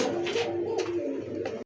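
A Bombay pigeon coos up close in a short, loud, throaty call with a few rolling pulses that ends abruptly.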